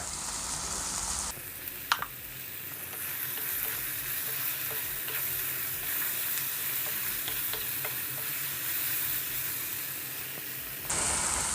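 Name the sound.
onion and tomato frying in pan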